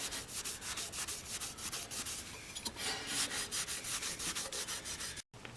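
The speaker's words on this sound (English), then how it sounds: "Kerosene rag and rub that down." A kerosene-soaked rag is rubbed briskly over a lawnmower carburetor, making a steady, rapid back-and-forth scrubbing rhythm, close up and with no voices.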